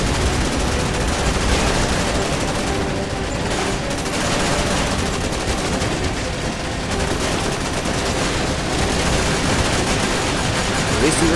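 Sustained gunfire in the Resident Evil 6 city hall chapter, loud dense bursts of shots and explosions layered together throughout, with a voice talking over the din.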